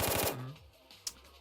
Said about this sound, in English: surprised when a series of bullets let loose